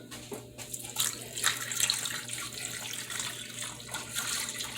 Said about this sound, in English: Now I'm going to add about 2 cups of water to it.